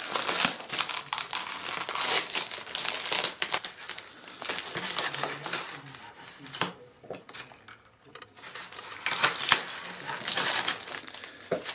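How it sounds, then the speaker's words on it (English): Tape peeled off dried spray foam on an N scale model railway hillside gives close, irregular crinkling and tearing crackles in bursts, with a short quieter pause in the middle. "I'm going to pull the tape off here."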